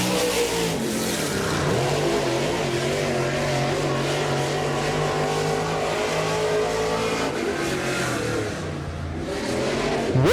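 A race car accelerates hard on its second lap, its engine roaring loud and continuous with rising and falling revs throughout, close and unbroken by any talk.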